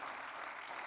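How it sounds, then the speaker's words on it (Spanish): A church congregation at a Spanish-language Sunday service claps in steady, dense applause, a full roomful of hands sounding continuously and evenly throughout. "Fuerte el aplauso a mis hermanos."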